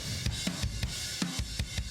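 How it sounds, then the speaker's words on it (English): A punchy, heavily squashed drum groove with tight, pumping kicks and snares hitting at a steady quick pace, dense and loud throughout. "you also send them to a compressor and then send that out the speakers. Slam them really hard"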